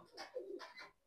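A soft, close pigeon coo, a single low rolling call lasting about a second in an otherwise quiet setting.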